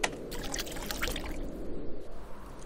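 Liquid pours in a continuous splashing, trickling stream while medicine is poured in the video game The Witch's House, steady and fairly close for a few seconds.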